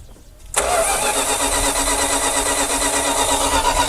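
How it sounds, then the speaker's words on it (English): An abandoned Dodge Power Wagon service truck engine cranks and catches, then holds a loud, steady, rough running drone close by after a short quiet start, with no talk over it. "Crank it again."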